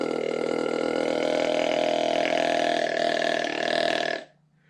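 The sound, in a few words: deer call imitating a buck's tending grunt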